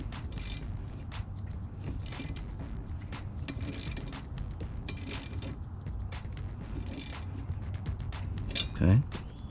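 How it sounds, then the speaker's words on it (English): A half-inch socket wrench ratchets in quick clicking bursts while a wiper cowl is removed from a 2011 Ford Fusion, close and moderately loud over a faint background hum. "I'm taking your 1/2-inch socket wrench"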